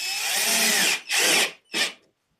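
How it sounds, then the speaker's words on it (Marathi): A power screwdriver drives screws into a subwoofer for a homemade bass tube, heard as three loud close whirring bursts: one long run, then two shorter spurts, with silence after. "मी कधीही मशीननी फक्त वरचेवर स्क्रू लावतो"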